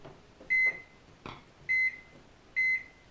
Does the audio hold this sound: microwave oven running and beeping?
yes